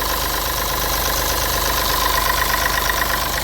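A car engine idles steadily and loudly up close, a continuous rumbling drone with a faint rhythmic knock throughout.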